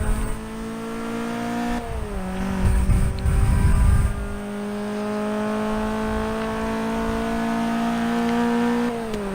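A Subaru BRZ engine in Forza Horizon 3 revs hard during a drag race, with a loud, sustained note that climbs steadily and drops briefly at a gear shift before rising again.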